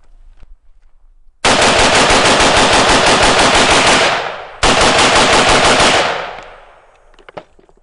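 A 5.45 carbine fires two long, loud bursts of rapid shots close by, emptying the rest of the magazine, with a short pause between bursts and a quieter tail afterward.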